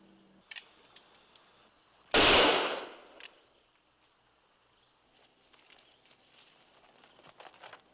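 A single loud gunshot cracks out near the middle, sharp and close, with a short decaying tail over quiet outdoor background and faint insect chirps.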